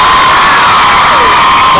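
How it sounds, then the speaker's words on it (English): A crowd of fans at the Clothes Show at the NEC screams and cheers loudly and continuously, a dense, high-pitched wall of shrieking close by with no talking over it. "They're just screaming."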